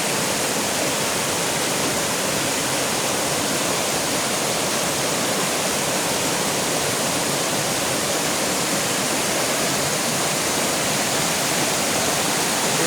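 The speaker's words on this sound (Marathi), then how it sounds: "बघू शकता पाणी किती जोरदार वाहत आहे" A fast-flowing mountain stream in the Konkan hills rushes loudly and continuously nearby, a dense unbroken roar of water with no voices.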